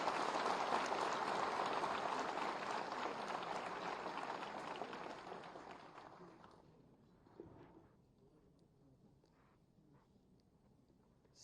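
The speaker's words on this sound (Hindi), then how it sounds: "आप सबकी जोरदार तालियों के प्रणाम के साथ।" An audience applauds at a Samsung Innovation Campus convocation ceremony at Lucknow University, a dense, steady clapping from a large crowd that fades out after about seven seconds into near quiet.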